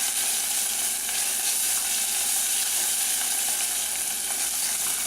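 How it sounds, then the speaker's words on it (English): Food stir-fried in a pan over a moderate flame for a curry makes a constant, close hiss and sizzle that runs unbroken and evenly loud, with no voices. "you're just going to stir fry this for like a minute"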